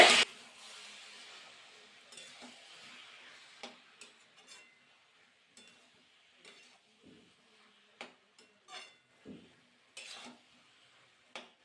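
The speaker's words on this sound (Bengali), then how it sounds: "কড়াইশুটি দিয়ে কিন্তু নাড়াচাড়া করে নেবো ভালো করে" Quiet, scattered scrapes and light clinks of a spoon stirring green peas around a pan, with soft pauses between strokes.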